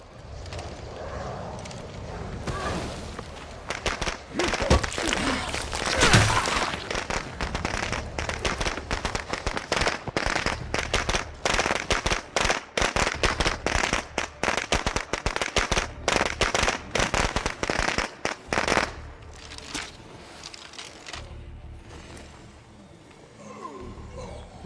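Grenade blasts and heavy gunfire from the game State of Decay 2, a dense burst of sharp explosive cracks and rapid shots packed close together for about fifteen seconds before tapering to quieter rumble.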